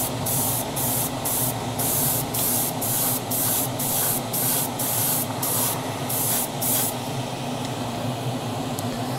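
An aerosol can spray-paints a Tamiya Castrol Celica WRC radio-control car body in a series of short, regular hissing bursts, close and steady, with a low background hum underneath and no talking.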